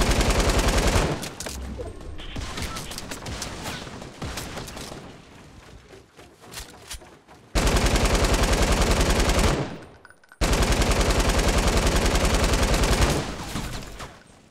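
Opponents' gunfire in Fortnite Battle Royale comes in loud, rapid bursts, with long sustained volleys broken by short pauses and a stretch of quieter, scattered shots.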